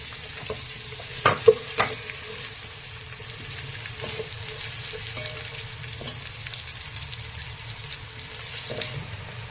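Shahi jeera and onion hit four ladles of hot oil for a vegetable biryani, giving a steady close sizzle with a few sharp clatters early on as they go into the pan. No one speaks.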